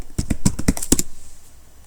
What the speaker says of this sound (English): simply type the sudo su and enter your root password